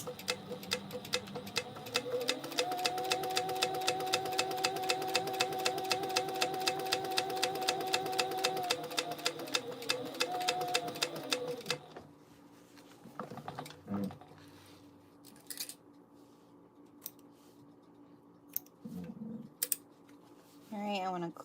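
A sewing machine stitches in a fast, even mechanical rhythm for about ten seconds, with a brief slowdown for a back stitch, then falls quiet apart from scattered handling clicks and a voice speaking.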